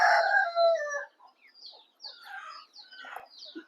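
Desi country chickens and a flock of 30-40 chicks are kept on a farm in summer and given sugarcane juice. A close bird lets out a loud, drawn-out crowing call, followed by scattered softer clucks and chirps.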